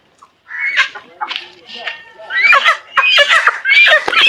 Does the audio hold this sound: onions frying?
no